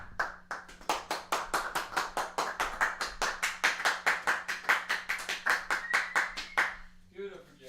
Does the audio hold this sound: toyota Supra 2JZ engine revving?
no